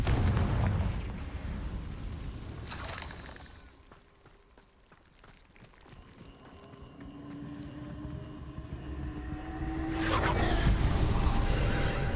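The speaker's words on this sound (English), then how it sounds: "Confringo!" Confringo fire spell explosions in Hogwarts Legacy: a heavy blast opens, a second burst strikes a few seconds later and another booming explosion rolls in near the end, with rumbling game ambience between.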